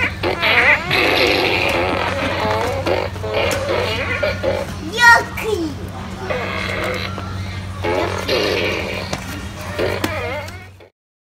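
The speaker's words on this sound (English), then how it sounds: "It's a farting gun." Toy farting gun firing repeated loud, wobbling fart noises in bursts, close by, over a steady electrical hum, with voices talking between blasts.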